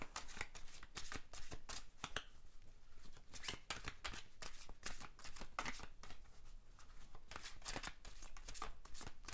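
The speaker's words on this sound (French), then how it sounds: "on va tirer une carte de l'oracle de Gaïa pour le tirage sentimental pour nos poissons" Oracle cards are shuffled close up during a tarot-style reading, producing a steady stream of rapid papery riffles and flicks that continue without pause and with no talk.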